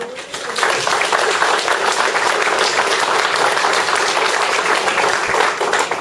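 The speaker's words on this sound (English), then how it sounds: "I want to have a round of applause for" Sustained audience applause at a community forum on North Highline annexation, a steady dense wash of clapping from a roomful of people lasting several seconds without a break.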